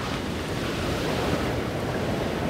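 Sea waves surge and fizz along the Cornish coast in a loud, continuous wash, with wind buffeting the microphone.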